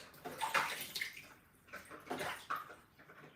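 Running water splashes as tilapia is washed for a hot spicy soup, a steady close wash of water with uneven surges and light splashing, no voices.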